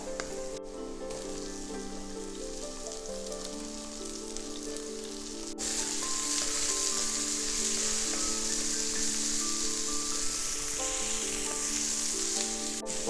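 Sliced onions hitting a pan of coconut oil alongside crushed green chilli paste, a soft sizzle that swells louder partway through, with steady music playing over it.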